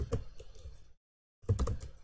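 Quick keystrokes on a computer keyboard in a Linux Java coding session come in a brisk burst of close clicks, then stop briefly before another rapid flurry of taps.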